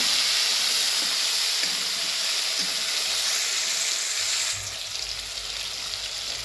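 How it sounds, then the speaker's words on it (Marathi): Chopped tomatoes, onion and green garlic fry in a pan, giving a loud, continuous hissing sizzle up close that eases slightly partway through, with no voices. "टोमॅटो टाकूया बारीक करून घेतलेलं भाजून घेऊया चांगलं टोमॅटो कांदे पात"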